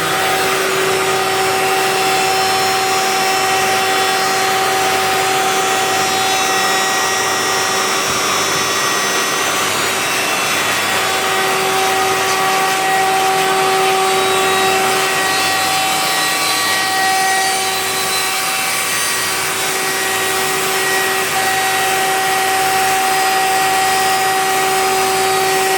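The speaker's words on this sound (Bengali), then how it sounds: "দেখেন মেশিনে কীভাবে কাটিং করা হচ্ছে" A machine cuts through material with a loud, unbroken grinding drone that stays steady for the whole stretch, with a thin whine running through it and no voices.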